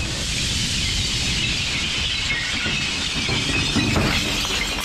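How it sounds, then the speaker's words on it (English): Recycled glass tipped by a giant front loader into a blue hopper at a glass recycling plant, a dense continuous crashing and shattering roar lasting throughout, loud and close with no talk. "The material is taken by a giant front loader and dumped into a blue hopper."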